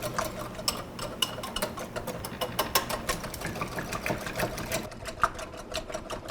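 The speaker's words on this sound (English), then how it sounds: "Whisk this together." A whisk beats pepper, garlic powder, sugar and fish sauce together in a bowl, making a fast, steady run of close metallic clicks and ticks that carries on throughout with no talking.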